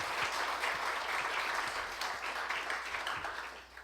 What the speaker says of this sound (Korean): 우리 모든 분들에게 감사하는 박수 한번 합시다.